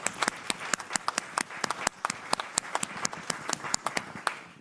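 A round of audience clapping with sharp individual claps standing out, continuous and fairly loud, slowly thinning toward the end.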